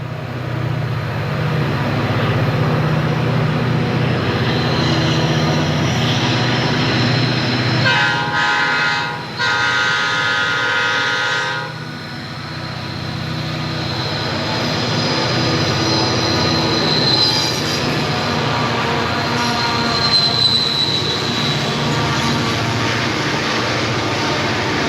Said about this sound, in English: he caught a westbound hopper train with another all-ex-Southern consist for motive